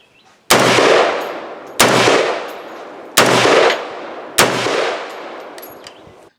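Four loud rifle shots ring out at an outdoor shooting range, each a sharp crack with a long decaying echo, spaced roughly a second and a half apart, with no talking.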